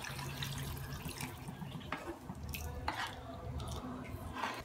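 Half a cup of water is poured into tamarind for a drumstick poricha kuzhambu, a soft, close, continuous splashing trickle that runs steadily throughout.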